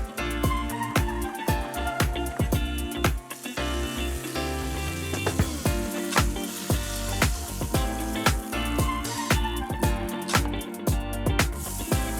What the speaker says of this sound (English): then I want to cook these 3 vegetables in some more olive oil